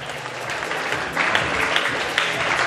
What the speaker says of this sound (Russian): аплодисменты нашим партнерам